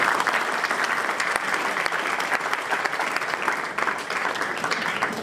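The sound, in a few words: audience applause for dignitaries at an inauguration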